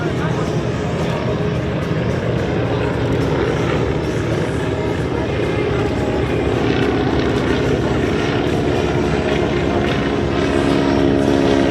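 A Stearman biplane flying at an air show, its propeller engine a loud, steady drone throughout with no voices over it.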